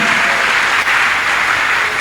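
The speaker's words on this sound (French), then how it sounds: "Acclamez grandement pour Jésus." A church congregation applauds loudly and steadily, a dense unbroken wash of clapping that holds at full strength for about two seconds with no voices rising above it.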